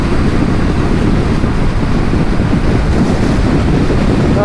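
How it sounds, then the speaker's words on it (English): Steady roaring wind blast buffets the rider on a 2022 BSA Gold Star naked motorcycle cruising at about 65 mph on a dual carriageway, a dense, constant rushing noise with no break and no talk. "And obviously there's wind blast, but it's not actually that bad, you know."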